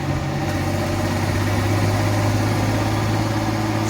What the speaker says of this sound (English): I figured the truck would be a lot louder.